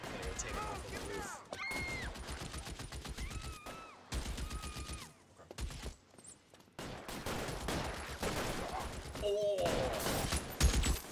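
Gunfire in L.A. Noire comes in several quick bursts of shots through a rooftop shootout, mixed with game voices and a man's exclamations.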